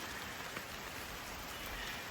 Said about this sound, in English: I can film on my phone in the rain